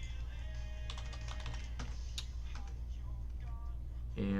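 Keys clatter on a computer keyboard as a street address and zip code are entered, in brisk irregular bursts of clicks over a constant low electrical hum.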